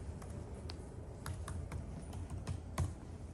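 Keys clatter on a computer keyboard in a classroom, irregular bursts of quick taps for a few seconds with no voices.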